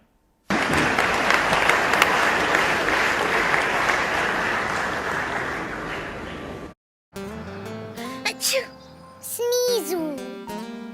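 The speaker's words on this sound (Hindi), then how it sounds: "आपसे अनुरोध है कि आप आज के डेट में फिर से ताली बजाएं।" Audience clapping at a political speech in India, a burst of dense crowd applause lasting about six seconds, then cutting abruptly to unrelated voices and music.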